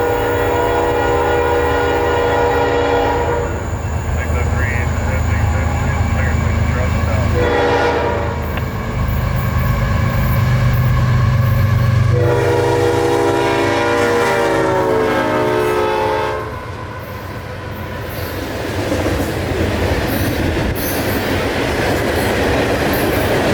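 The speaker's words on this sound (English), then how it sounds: "especially with these two locomotives barreling down on you" CSX freight train locomotives roar past close by near Winston Yard, horn blaring in several long blasts over heavy rumbling and clattering wheels as the cars keep rolling.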